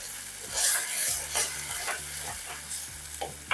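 Masala sizzling and frying in oil in a pan for a salmon fish curry, a steady close hiss broken by the scrape of stirring, no talking.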